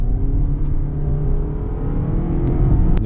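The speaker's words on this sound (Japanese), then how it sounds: "伸びやかに加速するって感じですね" A Toyota Crown Sedan HEV (hybrid) accelerating on a winding mountain road gives a smooth, steady engine hum that holds at a constant level throughout, heard from inside without talk.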